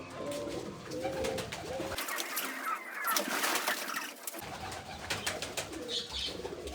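Pigeons coo repeatedly in low, soft rolling calls, close by, over a steady background hiss with faint wing shuffles.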